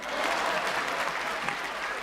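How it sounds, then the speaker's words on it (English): Steady applause from a Comedy Store Uganda audience during Teacher Mpamire's stand-up set, a dense, even wash of many hands clapping at moderate distance. "clap for that."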